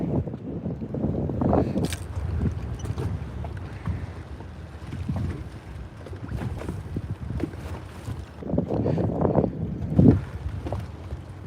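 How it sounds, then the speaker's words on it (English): Wind gusting on Lake Lanier during bass fishing from a boat, with buffeting microphone rumble and water lapping nearby, rising and falling in uneven surges. "Man, this wind is kind of tough out here."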